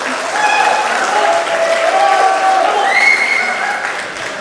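An audience of former classmates and teachers at a school alumni reunion claps loudly and continuously, with a few voices calling out over the applause.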